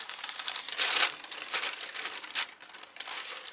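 A plastic cereal bag being cut apart, giving close, loud crinkling and crackling in irregular bursts, strongest near the start and then continuing in smaller rustles.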